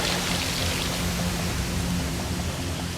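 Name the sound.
icy water wall pouring on Wipeout obstacle course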